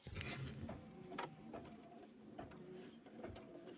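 A computerized embroidery machine stitches a quilt block, giving a steady mechanical whirring with rapid rhythmic needle patter and occasional sharper clicks, fairly quiet and close.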